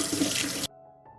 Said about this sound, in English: I will wash 2 kilograms of plums.